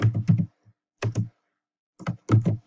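Typing on a computer keyboard while entering text in a design program, heard as short bursts of close clicky keystrokes separated by brief pauses, with no talking.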